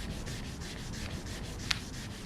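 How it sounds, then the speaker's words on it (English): Hand sanding a car headlight with 1005 grit sandpaper: steady, faint rhythmic rubbing strokes, close up, with one brief sharper scrape. "So I'm going to use the manual sanding method to just try a little spot here"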